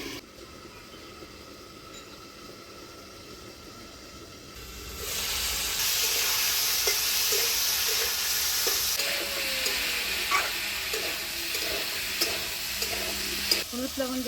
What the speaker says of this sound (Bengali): হলুদ লবণ দিয়ে আলু বেগুনটা ভাজা ভাজা করে নিলাম